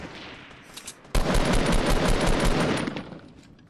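A loud, dense burst of rapid assault rifle fire erupts after a second of quieter game ambience and keeps rattling for over two seconds in a Fortnite match.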